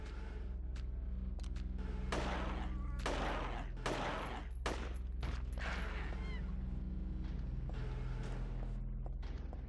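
Gunfire in the video game Silent Hill 3: several loud, separate shots in bursts with thuds and mechanical clicks from weapon handling, with brief pauses between volleys.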